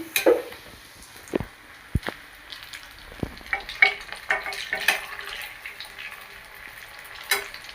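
Rui fish cutlets fry in oil and are flipped over one by one. A soft, continuous sizzle runs throughout, broken by several sharp clicks and taps of the turner against the pan.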